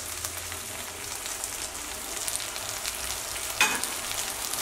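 Okra and fresh tomatoes fry in a pan with a steady, moderate sizzle that holds throughout, with a brief clatter near the end.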